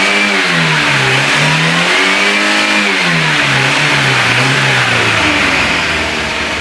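A 1982 Renault Trafic engine running on E85 revs up and down repeatedly in smooth swells of rising and falling pitch, close, loud and continuous.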